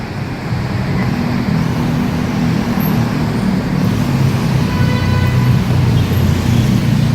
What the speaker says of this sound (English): All kinds of traffic here.